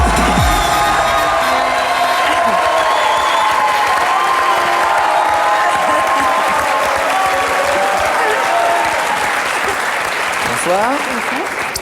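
A television studio audience gives loud, continuous applause with some cheering for an actress, while music plays underneath and a brief spoken greeting comes through.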